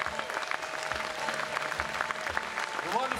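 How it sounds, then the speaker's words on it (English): A folk festival crowd clapping in a dense, even wash of applause, with a sustained tone and a voice faintly audible beneath. "Give them a round of applause."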